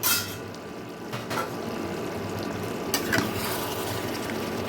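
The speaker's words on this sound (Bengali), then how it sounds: "ঢাকা চাপাটা আমি এখন তুলে দিচ্ছি" A lid comes off a pot of rohu fish head muri ghonto simmering with rice. Brief clatters of metal stand out against a steady bubbling, cooking background.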